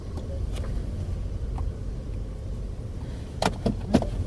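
A car engine left idling, a steady low rumble that runs the whole time with no talk, and a few brief clicks and knocks near the end.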